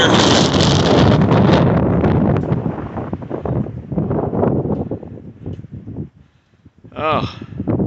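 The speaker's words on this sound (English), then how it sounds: "It's windy up here." Strong gusty wind on a mountaintop at Rich Mountain Lookout Tower buffets the microphone with a loud low roar, easing off briefly before surging again; a voice speaks briefly over it.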